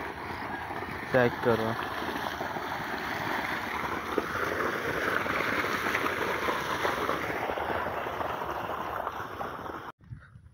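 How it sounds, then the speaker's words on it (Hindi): A farm motor pumps water into a rice paddy, producing a steady rushing, gushing water flow close by under a short spoken remark, before cutting out abruptly near the end. "मोटर चली है, मुंजी नू पानी ला रहे ने"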